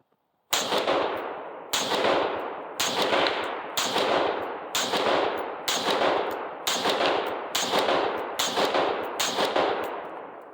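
A rifle fitted with a muzzle device fires about nine loud, sharp shots at a steady pace, each blast ringing out with a long decaying tail before the next, close and with no talking.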